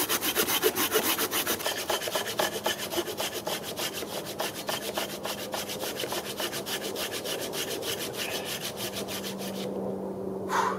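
A Bahco bushcraft saw cuts through wood in steady, rapid back-and-forth strokes, a close, rhythmic rasping that runs nearly the whole time before stopping near the end.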